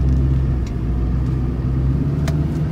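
A Duramax pickup truck rumbles loudly from inside the cab as it drives around the block, with a steady low engine drone and a few faint clicks and creaks over it.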